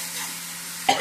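Mango and green chili thokku sautés in a pan, a steady soft sizzle with a short scrape of stirring near the end, close and brief with no voices.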